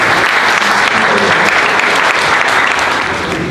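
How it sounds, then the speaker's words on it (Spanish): Loud, continuous applause fills the hall for the presenter and a panel member at a round table on electricity generation costs and prices, a thick wash of many hands clapping evenly from start to finish. "demos un aplauso a nuestro expositor y a miembro de la mesa"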